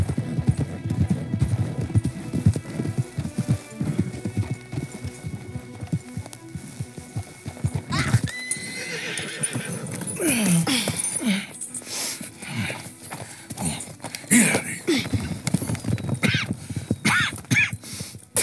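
Horses' hooves clip-clop in the Red Dead Redemption video game, with a brief whinny. The busy hoofbeats fill the first half, then give way to quieter, scattered sounds.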